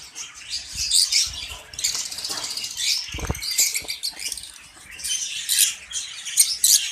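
White albino lovebirds flap and flutter inside a cage in short, uneven bursts of wing beats, mixed with light scrabbling and a few faint chirps, close by and without talk.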